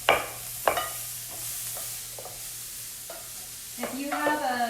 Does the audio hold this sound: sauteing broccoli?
yes